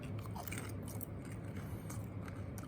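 Someone chewing a stale, soggy potato chip close to the microphone, soft muffled crunching and squishy bites in a quiet room, with faint background hum.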